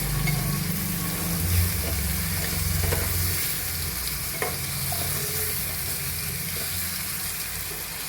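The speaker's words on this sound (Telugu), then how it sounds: "ఇప్పుడు ఇది మెల్లగా వేయించుకుందాం." Sliced bitter gourd fries slowly in a pan over a low flame, a soft steady sizzle with occasional light stirring scrapes, quiet and close with no talking.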